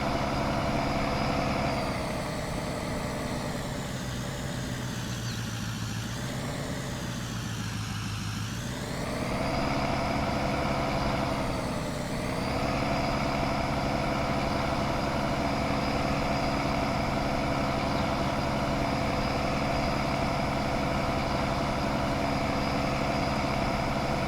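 A John Deere 9570 RT tracked tractor idles in Farming Simulator 19, a steady, loud, low engine drone that runs the whole time with a few slow swells in pitch and no talking.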